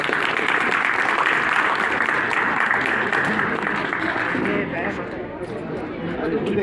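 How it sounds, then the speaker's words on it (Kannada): An audience at a school farewell ceremony for Class 10 students claps together in sustained, dense applause. It sounds close and loud, then thins slightly near the end. "ಒಂದ್ಸರಿ ಅವ್ರಿಗೆಲ್ಲ ಕ್ಲಾಸ್ ಮಾಡೋಣ ಚಪ್ಪಾಳೆ ಮೂಲಕ"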